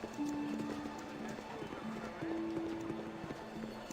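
Horse hooves clopping at a steady pace in the video game Baldur's Gate: Siege of Dragonspear, with a faint neigh or two and a low, busy town ambience underneath.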